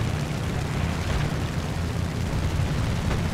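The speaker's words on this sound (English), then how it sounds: "Big explosions." Continuous, dense rumbling explosions from War Thunder combat fill the whole stretch, a loud, heavy, low roar without clear separate booms or any talking.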